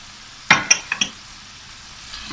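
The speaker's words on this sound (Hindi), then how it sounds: "इसको अच्छी तरह भून लेते हैं।" Red chili, turmeric and coriander powder frying in a pan for aloo matar, with a few quick spoon clinks and scrapes close by against a soft sizzling background.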